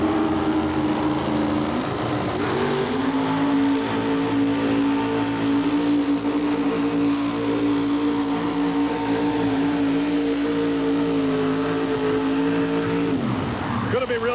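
A 640 cubic inch engine in a 1960 Chevrolet pulling truck drones loudly and steadily at a truck pull, its pitch sagging near the start and end, with an announcer talking over it.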